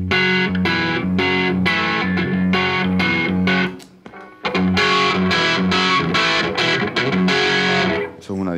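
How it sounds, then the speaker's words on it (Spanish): Electric guitar through a Dunlop, MXR or Way Huge distortion pedal, loud saturated chords strummed in a rhythmic pattern with a short pause midway, then heavy chugging resumes until the end. "Eso es una distorsión."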